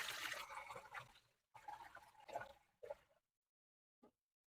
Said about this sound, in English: take your water and pour it out into the sink